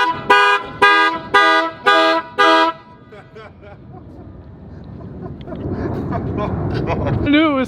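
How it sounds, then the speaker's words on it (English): Five loud, evenly spaced blasts from a train horn mounted on a 2020 RAM truck, with a rich chord-like tone, followed by engine rumble and road noise building up. "The train horn was cheap."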